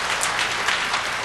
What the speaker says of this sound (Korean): 강사님 나오실 때 큰 박수로 환영해 주시기를 바랍니다.